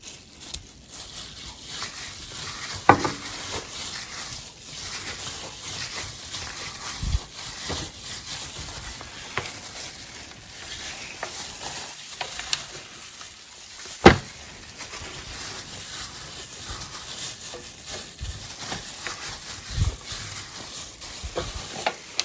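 Garlic hits hot oil and is stirred, giving a steady close sizzle with scattered spoon scrapes and clicks, the frying continuous throughout and no voices.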